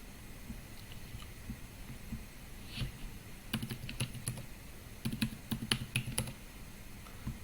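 Computer keyboard typing as details are entered into a web form: soft, faint clusters of key clicks in quick irregular bursts over a low room hum, with no talk.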